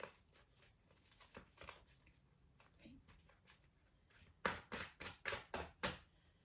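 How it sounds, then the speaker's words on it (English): A deck of tarot cards is shuffled close by, with scattered soft riffles followed by a burst of five or six sharp, rhythmic shuffling snaps near the end. "I'm just getting one more shuffle."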